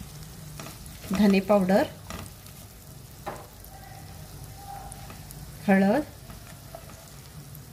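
For Maharashtrian masala bhat, garam masala, goda masala, coriander powder and turmeric roast in a pan with a steady low sizzle and occasional stirring scrapes, while someone talks over it in short bursts.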